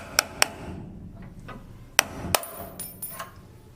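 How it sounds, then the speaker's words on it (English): A hammer knocks out a door hinge pin on a Fox Body Mustang: sharp metallic strikes close by, two quick hits, a pause, then two more and a few lighter taps, with no talking. "I think one more hit with the hammer should knock out the last little bit"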